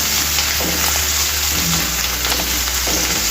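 Ginger garlic paste fries in a pan for a bitter gourd fry, making a loud, close, continuous sizzle with a few soft stirring scrapes and no voice over it.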